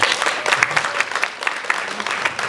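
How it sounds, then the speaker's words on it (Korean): A short burst of audience applause at an education round-table forum in Uiseong, brisk and fairly loud, with many hands clapping at once and a faint voice or two beneath. "박수 한번 쳐주십시다."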